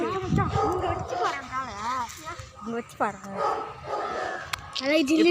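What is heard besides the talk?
dog barking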